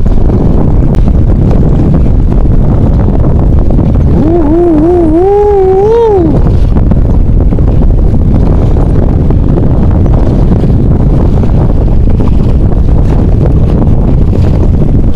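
Strong wind roars continuously into the microphone at sea on a fishing kayak off Teluk Batik, Lumut, with waves washing underneath and a brief wavering whistle-like tone in the middle.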